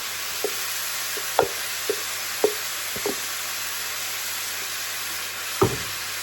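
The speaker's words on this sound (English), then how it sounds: "Give that a stir" Peanut butter ramen sauce of creamy peanut butter being stirred in a sizzling pan, a steady hiss with a handful of sharp utensil knocks and scrapes against the pan.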